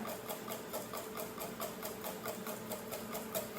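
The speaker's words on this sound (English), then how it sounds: "So just keep on whipping, or have somebody to give you a hand." Thickening hollandaise sauce for eggs Benedict is whipped by hand with a whisk, making a fast, steady clicking rhythm against the bowl that holds evenly throughout.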